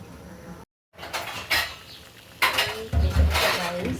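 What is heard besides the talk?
stirring chicken khichuri in a cooking pot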